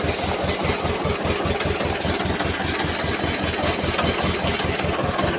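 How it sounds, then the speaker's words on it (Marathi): Mahindra tractor engine idling after being started, a steady rapid low thumping pulse with even rhythm, close and continuous with no voices. "चला मित्रांनो, ट्रॅक्टर चालू करून घेतला आहे मी."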